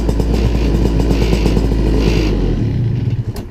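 An Airfer paramotor engine runs loud and close with a steady buzzing, clattering drone, then cuts out near the end and sputters down into quiet.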